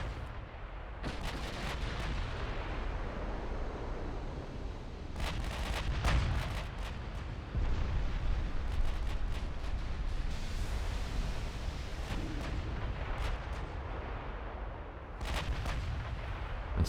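Battleship main guns fire in the naval warfare game Ultimate Admiral Dreadnoughts, producing a series of heavy booming blasts at irregular intervals over a low rumbling background, with no talking.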